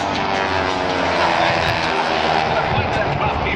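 Aerobatic airplane engine at the Ocean City, New Jersey airshow, a loud sustained propeller drone that swells slightly mid-pass, with an announcer talking over it.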